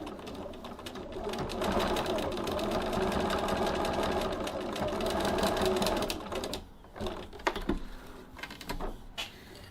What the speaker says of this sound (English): So now we'll head over to the sewing machine and do some stitching.